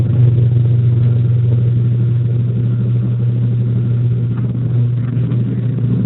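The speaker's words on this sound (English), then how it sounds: "There is garage below the apartment and we'll have cars with big noise" Steady low engine rumble from cars in a garage beneath an apartment, a continuous loud drone held throughout with no talking.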